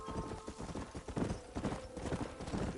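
Horse hooves clip-clopping in a steady trotting rhythm in the game Red Dead Redemption, moderately quiet against a dense background of ambient game sound.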